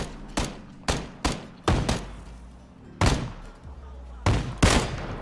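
Sniper rifle shots in the PUBG battle royale game, about seven sharp, loud cracks at irregular intervals, some in quick pairs, each with a short rumbling tail.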